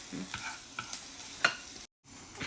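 Country chicken sizzles and crackles steadily in a hot pan, with a few sharp stirring clinks and a brief dropout near the end; no one speaks.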